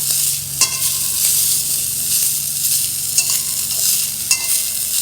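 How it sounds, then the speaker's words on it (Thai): Soaked noodles dressed with soy sauce are stir-fried in a pan, a close sizzle under sharp scraping clinks of a spatula striking the pan a few times, no voices. "ผัดไปเลยค่ะ"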